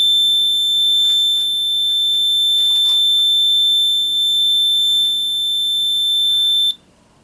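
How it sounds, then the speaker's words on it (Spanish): A steady, piercing electronic buzzer alarm from a homemade transistor plant-watering circuit sounds continuously and loudly for several seconds, then cuts off abruptly near the end, leaving only faint room noise. "Ahorita estaría activada la alarma de que necesita tomar agua mi planta."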